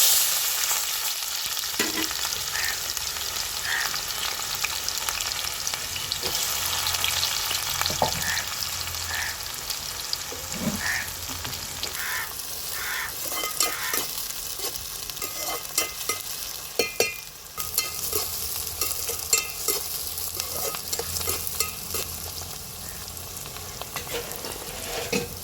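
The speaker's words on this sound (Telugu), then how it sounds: "ఉల్లిపాయ ముక్కలు వేస్తున్నాను." Onion pieces sizzle steadily in about four spoons of hot oil for a tamarind prawn-and-egg curry, a continuous frying hiss broken by occasional stirring scrapes and clinks, close and moderately loud, with no talking.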